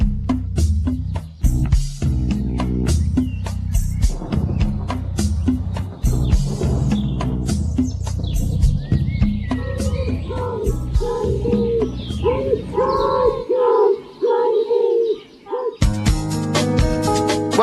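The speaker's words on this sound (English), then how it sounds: "painting a picture with all the bird song going on and everything" Bird song within a played music recording, chirps, coos and warbling calls woven through instrumental music with rhythmic percussive hits, some stretches quieter before the music returns loudly near the end.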